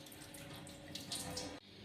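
Water runs steadily from a tap with splashing and trickling as sago is rinsed, then the flow abruptly cuts off near the end.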